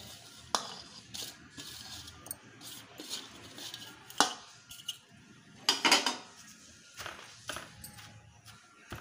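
Spoon scraping and clinking against a bowl while mixing stuffed eggplant filling with raw onion and salt, quiet irregular taps and scrapes close by with pauses between strokes.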